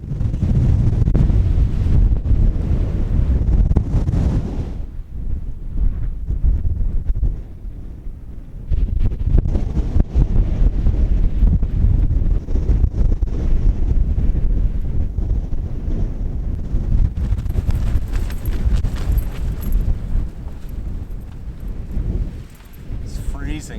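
Strong winter wind in Snowdonia buffets the microphone in loud, continuous roaring gusts, easing briefly in a short lull before surging again, with a voice talking over the rumble.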